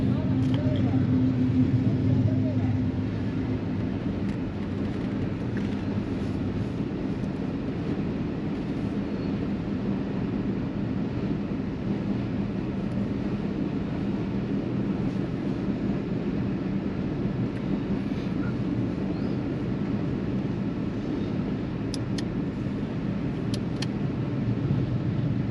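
Road traffic rumbles at a railway crossing in Lahore as the gate opens: a steady, dense drone of engines and passing vehicles, heard close and continuous with no break.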